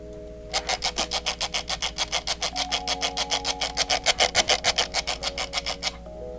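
Optical scroll wheel on a Vaxxee NP01 gaming mouse being spun, giving a fast run of about thirty evenly spaced dry ratcheting clicks over a faint steady hum, close and alone.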